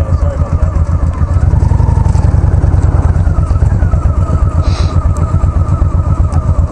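A motorcycle engine idles close and loud in a store parking lot, a steady, fast thumping pulse that stays even throughout while the bike is being parked.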